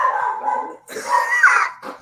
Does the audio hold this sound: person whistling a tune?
no